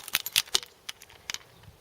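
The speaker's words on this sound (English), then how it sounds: "And I will show you the keys." Car keys for a 2016 Vauxhall Corsa 1.4 petrol jangle close by in a few quick, bright metallic clinking bursts, with no talking.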